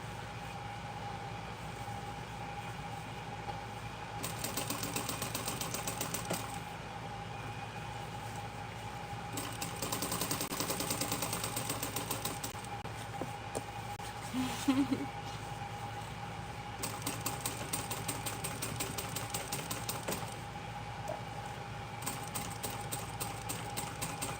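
A sewing machine stitching in a home sewing room runs in several bursts of steady, rapid mechanical whirring, separated by short pauses, with a voice talking at times in the background.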